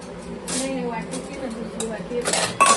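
Plates and dishes handled while serving a wedding meal at home, with intermittent clinks and clatters of tableware heard close under ongoing conversation.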